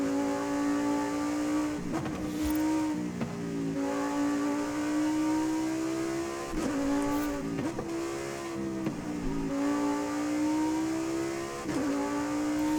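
Lamborghini STO in Forza Horizon 5 racing hard, the engine revving up through high howling gears with sharp drops at each shift and brief tire squeal, loud and continuous.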